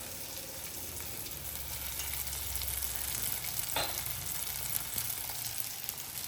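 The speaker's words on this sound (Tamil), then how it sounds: "ஒரே ஒரு தக்காளி மட்டும் போட்டு வதக்கியிருக்கிறேன்" Tomato sautéing in a pan with turmeric and salt, a steady close sizzle and crackle of frying with a brief scrape of stirring partway through.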